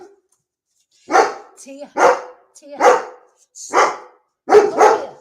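A dog barking outside, five or six loud, spaced barks, some doubled, with a short call spoken under the barking.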